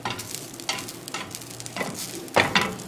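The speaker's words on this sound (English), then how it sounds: "Now you can have free range with your onions. You can turn it up a bit so they fry better." Onions frying in a pan on a raised heat while cooking a deluxe grilled cheese, a soft steady sizzle broken by several louder bursts of stirring and scraping, close and without talk.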